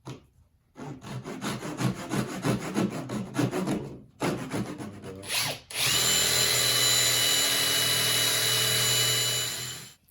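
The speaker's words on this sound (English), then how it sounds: "We're just cutting our dowel rods into, try to get 7 equal pieces here" A saw cuts through wooden dowel rods in rapid back-and-forth strokes, pausing briefly, then a sustained loud power-tool whine takes over and runs steadily for several seconds before stopping.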